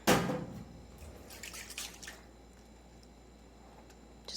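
Penetrating spray applied to a rusty Singer 66 sewing machine to soak it. One loud spray burst opens, wet dripping and squishing follows, a short hiss comes in the middle, and another spray starts at the end.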